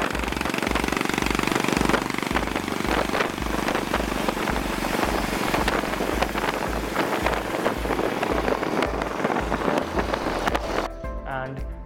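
A Royal Enfield motorcycle fitted with a Vardenchi retro exhaust idles nearby, a loud, steady thumping exhaust pulse throughout that cuts out just before the end.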